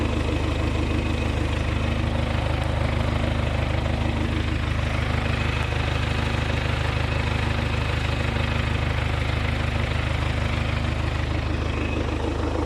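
Tractor engine running steadily on a cold May morning, heading out to roll a rapeseed field; a continuous low engine drone at constant level, no talking.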